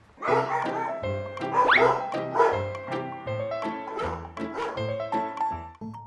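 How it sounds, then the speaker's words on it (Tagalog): Several pet dogs bark and yip in a rapid, overlapping volley, loud and close, with sharp repeated barks filling the whole stretch and a brief squeal in the middle. "ang kanyang biktima, ang mga alagang aso niya na si Jamie, Angel at Danny."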